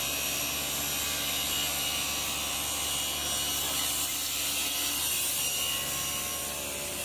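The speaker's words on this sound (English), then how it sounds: "The blue feed rollers ensure consistent and accurate feeding of the material through the cutting blades." Wooden blocks being fed by blue feed rollers through the cutting blades of a bee frame side bar slicer, giving a loud, continuous whirring, rasping saw hum that holds steady throughout with no talking.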